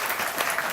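An audience gives a round of applause at a talk, a dense, steady wash of clapping hands that fills the whole short moment without a break.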